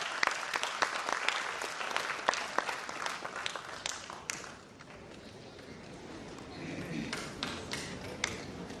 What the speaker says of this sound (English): With a huge round of applause, let's welcome these two leaders of the education sector